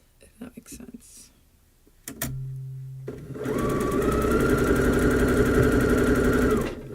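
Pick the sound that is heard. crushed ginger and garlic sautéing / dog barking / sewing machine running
sewing machine running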